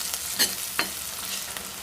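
Green chilies, onion and shallots sautéing in a pan for a Kerala fish curry with kudampuli: a soft, steady sizzle broken by a few sharp scrapes and clicks of stirring, close by, with no talking.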